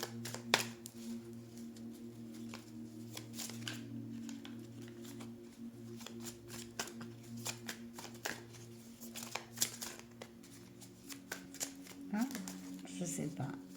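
Tarot cards riffle and slap in repeated bursts close by during a reading, with a low steady hum and occasional talk underneath.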